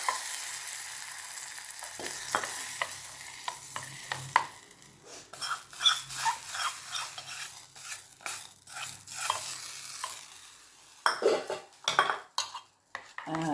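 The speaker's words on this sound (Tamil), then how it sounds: "நல்லா அப்படி கிண்டி விட்டுருணும்" Stirring a mustard-seed and curry-leaf tempering with asafoetida into guava chutney in a pan, with repeated scraping utensil clicks and light sizzle, close and fairly loud, no talking.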